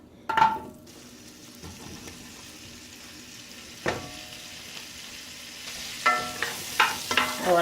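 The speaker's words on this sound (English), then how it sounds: "I'm just going to add a tablespoon of oil, and we'll saute up these vegetables" Vegetables sautéing in a tablespoon of oil in a Berndes oval roaster pan for a beef pot roast: a low steady sizzle broken by sharp clanks and scrapes of stirring, growing busier toward the end.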